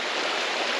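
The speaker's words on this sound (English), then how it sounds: "This water actually, it flows down into the river" Water flows downhill toward a river over rocks, a steady, close rushing hiss that holds even and unbroken throughout.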